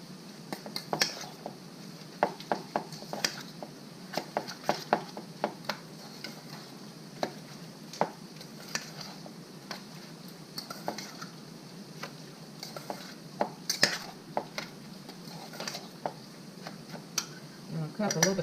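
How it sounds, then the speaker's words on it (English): A spoon clinks and scrapes against a bowl while carne asada marinade with a little sugar is stirred, quick irregular taps close by with occasional soft speech. "And then you stir it up."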